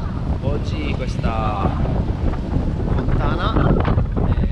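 Wind gusts across the open World Trade Center memorial pools in New York, a steady close roar buffeting the microphone throughout, with a voice talking over it.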